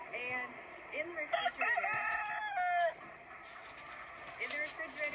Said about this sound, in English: we have a little over 100 chickens here at the farm right now